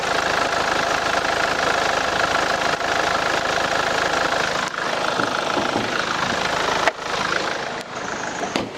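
The diesel engine of a Kia Carnival 9-seat minivan idles steadily with a low, knocking rumble, close by under the open hood, with a few brief clicks and shifts near the end.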